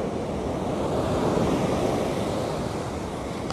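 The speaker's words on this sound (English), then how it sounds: "The tidal waves are also very high, you know, see the ocean" Steady ocean surf rolls onto a beach at Prampram, a continuous broad wash of breaking waves with some wind rumble, no voices over it.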